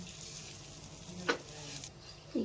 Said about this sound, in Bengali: আমি সামান্য একটু ঘিতে নাড়া দিয়ে নিলাম হালকা ভেজে নিলাম